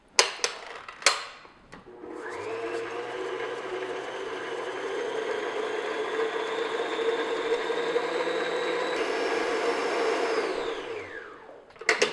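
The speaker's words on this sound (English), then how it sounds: "I'm going to beat on medium-high speed until the butter and sugar are nice and light and fluffy" An electric mixer beats butter and sugar at medium-high speed for lemon blueberry bread, a steady loud whir that starts after a few knocks and runs about ten seconds before winding down, with no talking.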